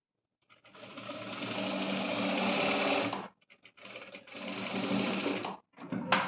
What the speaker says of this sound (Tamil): ஒரு தையல் மேலே இன்னொரு தையல் போட்டு நம்ம அதை வந்து ஸ்ட்ராங் பண்ணிக்கணும்